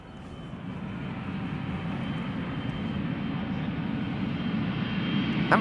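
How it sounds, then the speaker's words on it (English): An Embraer 175 jet outbound to Toulouse from Schiphol Airport gives a steady, broad engine roar that slowly swells louder over several seconds, with no voices. "Embraer 175 outbound to Toulouse."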